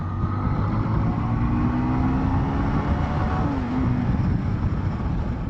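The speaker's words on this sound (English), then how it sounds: "I'm going to put it in third gear. And I'm just going to pull away" A Zontes T310-T motorcycle pulls away in third gear, its engine droning steadily and loudly with a slowly rising tone under constant wind rush, no talk over it.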